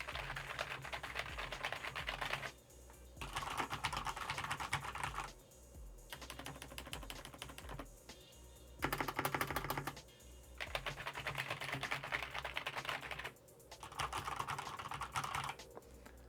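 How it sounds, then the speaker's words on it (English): Steady typing on a Corsair K57 RGB wireless mechanical keyboard, a dense stream of clacky keystrokes in bursts separated by brief pauses, close and fairly loud with no talking. "This is a mechanical keyboard, so let's have a quick sound test."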